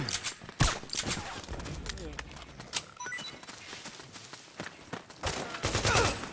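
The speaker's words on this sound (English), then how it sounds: "Suppressing fire!" Bursts of automatic gunfire and scattered single shots during a Metal Gear Solid 4 firefight, sharp cracks recurring irregularly, some near and loud, with soldiers shouting between volleys.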